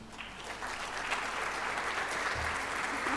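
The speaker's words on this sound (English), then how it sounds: "Please, let's give her a round of big applause." Audience applause for a speaker at an international convention for English teachers, rising from scattered claps into a sustained even roar of many hands.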